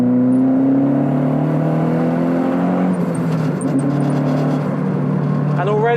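A turbocharged Renault Clio 182 accelerates hard on a dual carriageway, its engine note rising steadily in a loud in-cabin drone with tyre and wind roar, while a person talks over it.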